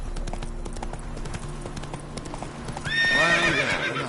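Roach, a horse in The Witcher 3, gallops with steady clip-clop hoofbeats, then lets out a loud whinny near the end, with game music and ambience underneath.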